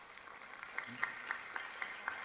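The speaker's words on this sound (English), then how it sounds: "let us therefore give your parents a round of applause" Faint, distant audience applause at a school graduation commencement, a thin patter of scattered claps with soft rhythmic peaks over a hushed room.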